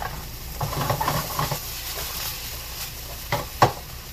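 Garlic, about four tablespoons, with onions sizzles in a pan as the base of a meat sauce for pasta. A steady soft frying hiss runs throughout, broken by a few light stirring scrapes and one sharper knock near the end.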